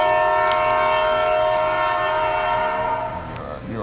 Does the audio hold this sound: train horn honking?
yes